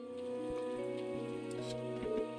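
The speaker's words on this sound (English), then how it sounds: "Oh no, I didn't think it was raining this hard." Heavy rain falls in the video game Trails of Cold Steel 3, a soft, steady patter kept quiet beneath sustained tonal music throughout.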